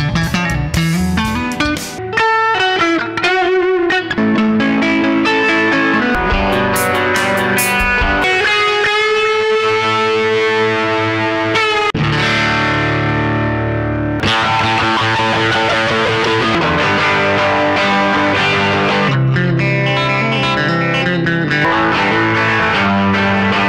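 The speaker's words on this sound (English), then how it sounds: "Playing various music styles through the incredible Fender G-DEC 330 amp." A 1966 Maton DC 545 Slenderline electric guitar plays through a Fender G-DEC 330 amplifier, moving between clean and distorted tones with shifting riffs, chords and sustained notes, no talking.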